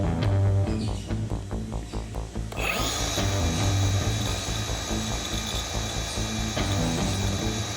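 A Milwaukee M18 Fuel cordless circular saw spins up with a sharp rising whine and then holds a loud, steady high-pitched free-running drone, close by, following a stretch of low rumbling handling noise.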